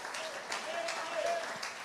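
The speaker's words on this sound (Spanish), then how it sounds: "Oiga, dele un aplauso fuerte a esa palabra" Church congregation applauding during a sermon, a short, fairly faint burst of massed clapping with a murmur of voices behind it.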